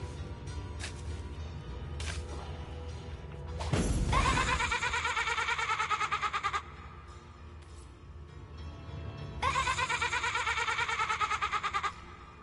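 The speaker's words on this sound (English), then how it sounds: "It's a ghost of a sheep." A ghost sheep in the Divinity: Original Sin video game gives two loud, wavering, echoing bleats, each a few seconds long, over a low ambient game background.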